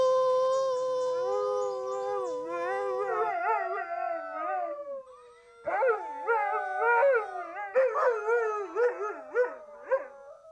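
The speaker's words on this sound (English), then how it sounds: "He doesn't bark at them, but he does howl." A search and rescue dog howls in long, wavering, rising and falling tones, first a sustained howl, then a brief pause and a series of shorter, choppier yodeling howls, close and clear with no talking.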